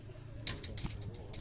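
Homing pigeons of a breeder's own home-bred line coo softly at close range, with a few brief sharp rustles and chirps scattered through the short stretch.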